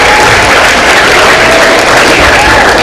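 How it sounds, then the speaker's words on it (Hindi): Students at a school ceremony clapping for their staff, a loud, steady burst of applause from a large group filling the room for the whole stretch, with no voices over it. "I request all the students to stand and just clap for your staff"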